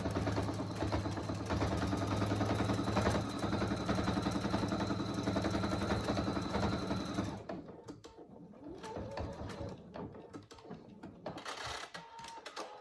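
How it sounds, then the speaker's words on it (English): Sewing machine stitching fabric for a small animal hammock, a loud steady mechanical whir with rapid needle chatter for several seconds, then stopping, leaving quieter handling clicks and rustles. "And then sew it down back and forth."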